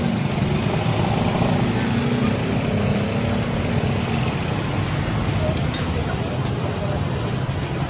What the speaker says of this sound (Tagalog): Medyo traffic sa mga oras na ito.